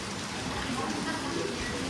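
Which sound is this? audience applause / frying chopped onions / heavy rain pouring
heavy rain pouring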